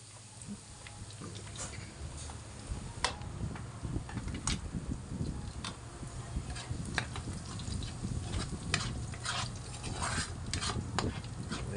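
Onions and garlic sizzle in a hot pan while a spoon stirs them, a steady close frying hiss broken by scraping stirs, with faint talk in the background.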